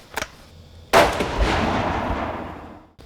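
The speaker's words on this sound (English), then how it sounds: "So we'll fire another shot now and see where it goes." A single rifle shot fired at an outdoor shooting range: a faint click, then one sharp, loud report that decays into a long rolling tail, with no talking.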